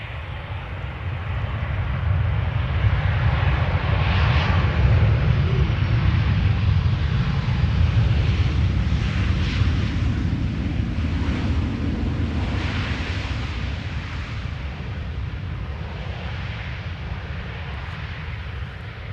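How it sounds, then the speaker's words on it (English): A 23-year-old KLM Boeing 737-800 jet arriving from Birmingham at Amsterdam Schiphol produces a broad, steady rumbling roar that builds quickly, holds loud and fairly near, then eases slightly toward the close. "KLM flight 1422, 737-800 arriving from Birmingham"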